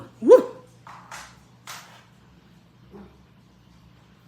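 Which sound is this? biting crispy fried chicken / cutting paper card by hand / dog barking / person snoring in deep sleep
dog barking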